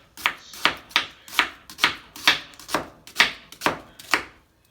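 Onion chopped with a knife on a board while making chicken back curry, about ten crisp, evenly paced strokes, close and clear with nothing else heard.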